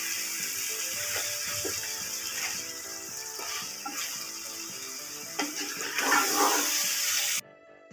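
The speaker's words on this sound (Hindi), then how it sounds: "अब चिकन की मसाले के अंदर हम अच्छी तरह से भुनाई करेंगे।" Chicken, 1.5 kg, fries in masala in a pot for biryani, giving a steady, even hiss of sizzling oil with light clinks of stirring, then cutting off abruptly near the end.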